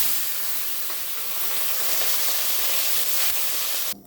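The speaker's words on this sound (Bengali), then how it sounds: "এখন বাকি মাছগুলো আমি ভেজে নিচ্ছি" Small boreli fish fry in hot oil in a home kitchen, giving a dense, even sizzle that holds for several seconds, then cuts off abruptly near the end; no one speaks.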